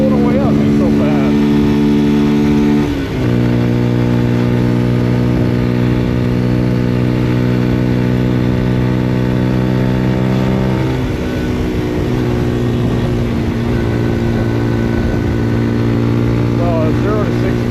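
A Papio SS mini-moto motorcycle runs at full throttle, its engine droning loud and steady with a shift in pitch about three seconds in and another near eleven seconds, with wind noise throughout.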